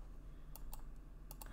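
Mouse clicks while retouching a photo with the spot healing brush in Photoshop: a few short, sharp clicks, two close pairs spaced apart, over a steady low hum.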